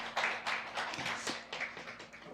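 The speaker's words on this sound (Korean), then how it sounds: "박수 크게 쳐줍시다" Children in a Sunday school class clap together, a quiet scatter of uneven hand claps with a faint steady hum underneath, no talking.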